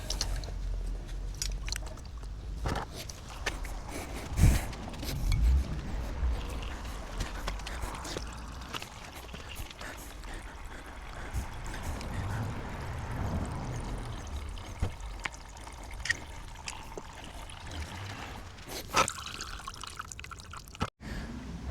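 Coolant drains from the drain bolt of a Kawasaki Z900 motorcycle in a steady pouring and dripping trickle. A few sharp knocks and handling sounds punctuate it, and a voice may be faintly present.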